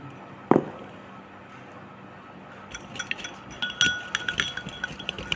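Vitamin E capsule contents mixed in a glass container, with light, rapid clinks and taps of the stirring tool against the glass following an earlier single knock.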